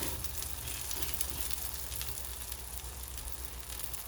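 A tomato and spinach omelette sizzles steadily in a frying pan, a constant crackling hiss of cooking that holds even and close throughout with no talking.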